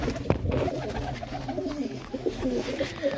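Pigeons coo in low, rhythmic murmurs close by, with a sharp wing flap near the start and soft rustling throughout.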